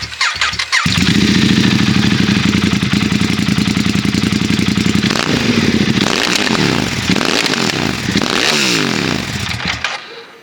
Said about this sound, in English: I'm going to do the XDiavel exhaust one more time for y'all.